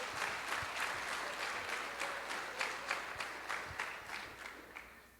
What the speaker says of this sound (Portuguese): Aplauda o Senhor, irmão.